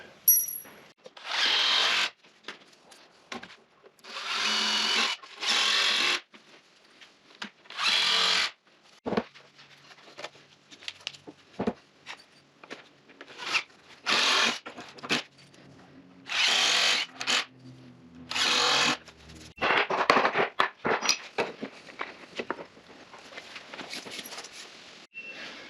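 Power drill driving screws up into wooden wall studs while framing a partition wall, heard as a series of loud whirring bursts of a second or two each, separated by short pauses and clattering handling noises, with no talking.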